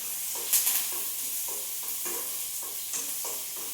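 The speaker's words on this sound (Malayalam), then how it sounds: "ഉള്ളി നന്നായിട്ട് മൂക്കുന്നത് വരെ വഴറ്റി കൊടുത്തിട്ടേക്ക് കടച്ചക്ക കറിയിലേക്ക് ചേർക്കാം." Onions sautéing for a jackfruit curry, a steady soft sizzle with a rhythmic series of spatula strokes scraping the pan, close and moderately loud, no voices.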